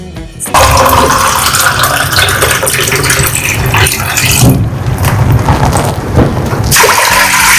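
Water pours steadily and loudly into a cooking pot in a home kitchen, a continuous rushing fill lasting several seconds with a brief pause near the end, no talk over it.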